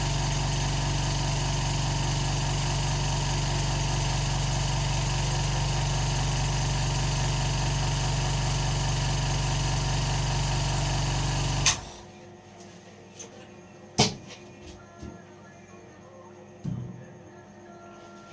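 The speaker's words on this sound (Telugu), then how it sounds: "ఫ్రెండ్స్, బౌండింగ్ మిషన్ ఆన్లో ఉంది." A bonding machine used to repair a TV panel hums with a steady, dense mechanical drone that cuts off abruptly, leaving quiet room tone with a few sharp clicks and knocks.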